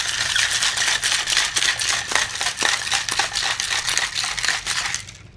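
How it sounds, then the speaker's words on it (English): A cocktail shaker filled with ice is shaken hard for a vodka martini, giving a fast, loud, continuous rattle of ice cubes that lasts about five seconds before stopping abruptly. "So the ice is in now, and we're going to shake it."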